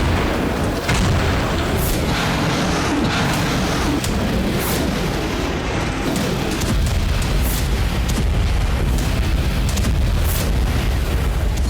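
Heavy booming blasts from bombing and drone strikes in the Kursk region rumble continuously with repeated sharp bursts over a dense low roar, loud and sustained throughout.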